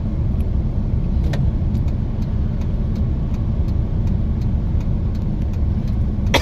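A car engine hums as the car drives along, a steady low rumble that stays close and even throughout, with a few faint clicks; no voices.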